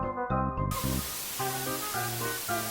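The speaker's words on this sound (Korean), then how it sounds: "반짝핀이 그려진 이 스프레이를 뿌리면" Glitter spray hisses steadily onto a toy doll's hair, a continuous close spray that begins partway through and runs under tonal background music.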